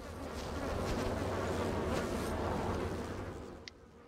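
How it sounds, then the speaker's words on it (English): Yellow bees in World of Warcraft's Drustvar giving a steady, close buzzing drone that swells and then fades away. "All I'm seeing here is the yellow bees"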